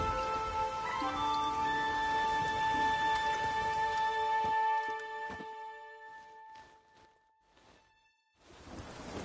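Steady rain falls and patters in The Witcher 3, a continuous hiss under faint musical tones that thin out toward the end.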